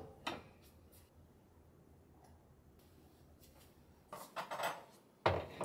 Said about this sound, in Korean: 작은 커트러리류도 장 속으로 이동하고 좀 더 넓은 면기류도 가까운 자리에 놓아줍니다.